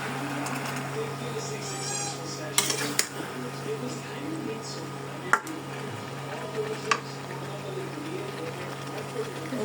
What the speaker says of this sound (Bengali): ভালো করে নেড়ে চেড়ে এখন ঢাকনা দিয়ে ঢেকে দেব।